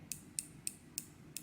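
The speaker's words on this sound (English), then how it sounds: "it's 90 clicks here, not 120 clicks on the bezel here." Rotating bezel on a Pagani Design Submariner Hulk watch clicks five times at a steady pace, each a small sharp tick, close and quiet over faint room noise.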